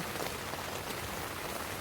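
Steady rain falls on a tomato garden in a dense, even hiss of drops striking leaves and soil, continuous and close, with no voices.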